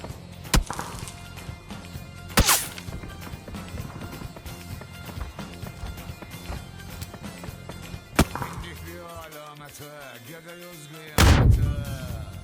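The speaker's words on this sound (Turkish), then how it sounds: "Arabalar patladı." Cars blowing up in PUBG on the Miramar map: several sharp, loud blasts scattered through game noise, the last one heavy and booming, with players' voices nearby.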